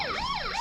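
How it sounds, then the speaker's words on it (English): Police siren wailing from behind on GRC body-worn camera footage, a continuous rising and falling sweep with no talk, steady and moderately loud. "You can hear the police siren on the back."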